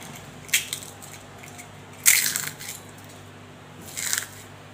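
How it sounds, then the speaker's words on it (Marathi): Crispy homemade pani puri shells crunch up close: three separate brittle bursts spaced apart over a quiet background. "सर्वात आधी पाणीपुरीचा आवाज ऐका."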